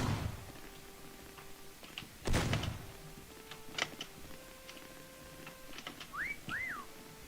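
Two quick rising-and-falling whistle tones near the end, standing out over quiet game ambience scattered with faint clicks and a brief thud.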